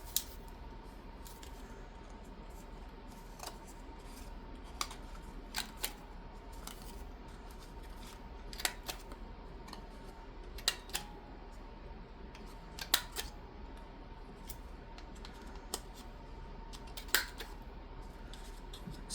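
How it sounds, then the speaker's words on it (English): A paper corner punch rounds card corners with faint, scattered sharp clicks and snips, isolated and irregular over a quiet background. "I'm going to round those corners."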